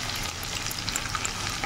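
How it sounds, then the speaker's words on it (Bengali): Sliced onions sizzling in hot oil in a pan for a dried fish curry, a steady close crackling hiss with small pops and spatters, no talking. "পেঁয়াজটাকে একটু ভাজা ভাজা করে তারপরে মাছটা দিয়ে দেবো।"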